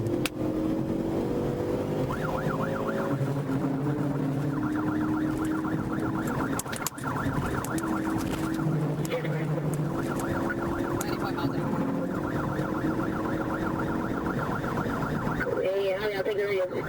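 A police car siren wails steadily during a pursuit, heard from inside the cruiser over constant road and engine noise, with rising and falling tones and radio chatter mixed in.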